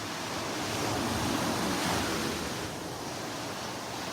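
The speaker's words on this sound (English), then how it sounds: "I love watching the waves breaking, crashing on the pilings here." Ocean waves breaking and crashing against the pilings of Naples Pier on a beach, a steady loud wash of surf with a swell in the middle, no voices.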